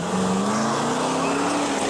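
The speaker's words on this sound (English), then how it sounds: "Let's see if we can get a little exhaust noise." A fifth-generation Camaro's V8 engine, swapped in for a V6, drones and rises steadily as the car accelerates, a rumbling exhaust note held close and fairly loud, with no talking.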